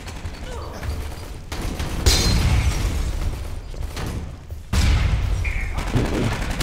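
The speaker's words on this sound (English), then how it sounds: "Turrets? I don't like the sound of that." Automated turret gunfire in Aliens: Colonial Marines rattles in heavy sustained bursts that stop and restart abruptly, loud and close, over background game noise.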